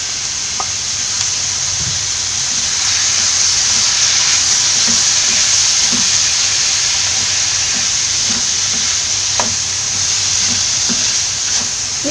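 Sliced onions and tomato sauté in hot oil in a pan, a steady bright sizzle and hiss with occasional stirring scrapes and clinks, close and continuous, no talking.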